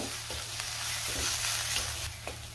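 A thick ground masala paste sizzles and sputters steadily in a hot pan for Satara-style mutton rassa, with occasional scraping stirs; no voices, a soft continuous frying hiss throughout.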